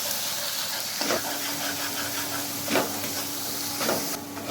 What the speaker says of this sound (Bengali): পেঁয়াজটা আমি এখানে হালকা ভেজে নেব